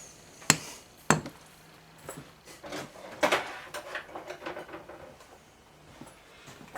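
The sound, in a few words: screwdriver prying at a John Deere 130 carburetor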